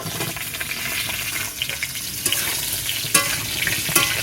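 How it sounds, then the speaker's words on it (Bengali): Pointed gourd (potol) frying in oil in a kadai during village-style cooking, a dense continuous sizzle with stirring scrapes and a few sharp clinks of the utensil against the pan, close and fairly loud. "এই তেলের মধ্যেই আমি পটলগুলোকে ভেজে নেব পটলগুলো দিয়ে দিলাম কড়াইতে"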